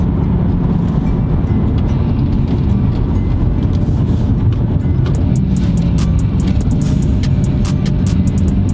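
A 2018 BMW M4 Competition F82 drives with a loud, steady engine and road roar close inside, broken by brief sharp transients of gear shifts in the second half.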